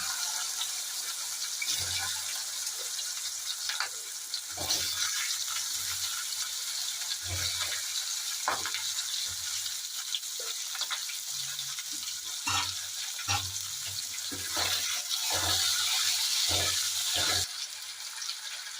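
Potatoes and taro frying in a pan for a Bengali hilsa and eggplant dish give a steady, close sizzle throughout, with periodic scraping and stirring knocks from utensils and no talk.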